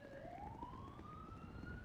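A police-style siren wails with a slow rising sweep, mid-distance and steady, over a dense rumbling street background with no voices.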